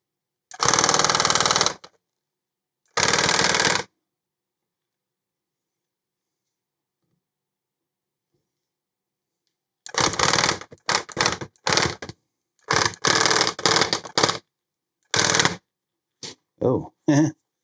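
A Claw Lab H1 tufting gun running at full speed rattles in rapid mechanical bursts: two longer runs, a pause of silence, then a string of short stop-start bursts.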